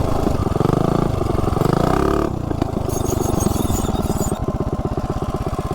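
A modded Juggernaut minibike engine revs hard, its loud buzzing drone climbing and dropping through repeated throttle blips at close range, with no talk over it.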